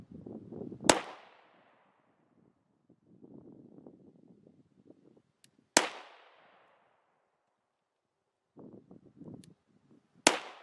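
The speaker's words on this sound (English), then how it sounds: "The gun goes off, bang" Three sharp handgun shots ring out several seconds apart during trigger control practice, each a loud crack with a brief decaying tail, separated by quiet stretches of faint shuffling and wind.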